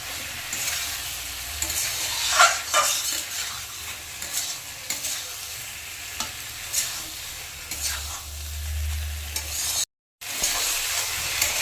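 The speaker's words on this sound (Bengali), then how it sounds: "ঝিঙ্গে আর আলুটা মশলার সাথে ভালো করে কষে নেব।" Ridge gourd and potato being sautéed with spices in a pan, a continuous close sizzle with scraping stirs throughout, and a brief gap near the end.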